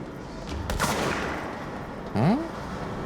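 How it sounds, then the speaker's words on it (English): Gunfire in the Control video game, a couple of sharp, echoing shots and a short burst with ringing, whooshing tails, somewhat distant and set against a steady ambient hum. "I hear someone shooting."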